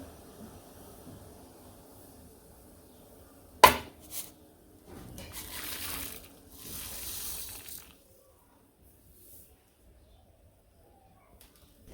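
Lentils are tipped into a pot of water coming to the boil, a sudden splash followed by a couple of rushing, bubbling bursts of water, then quiet.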